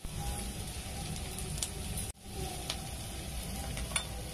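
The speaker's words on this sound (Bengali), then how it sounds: "পেঁয়াজটা এই ভেজে নিচ্ছি আমি, একটু লাল লাল হয়ে এসেছে।" Onion fries with ginger-garlic paste in a pan, giving a continuous close sizzle and hiss with light stirring scrapes, and a brief drop partway through.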